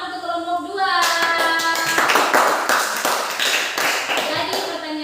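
A classroom of students claps for a group presenting their work, a burst of uneven hand claps that starts after a short tonal sound and continues steadily, close and moderately loud.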